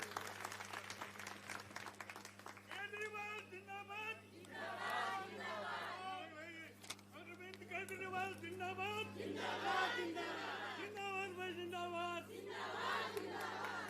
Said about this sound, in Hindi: अरविंद केजरीवाल जी के लिए जोरदार तालियां बजाइए।